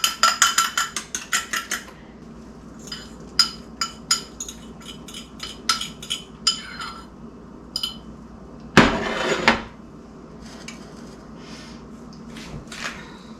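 Eggs are beaten in a buttered pan, with quick metallic taps of a utensil against the pan in short rhythmic runs, scattered clinks and one louder scraping clatter, close and alone without talk.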